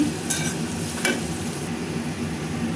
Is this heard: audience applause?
no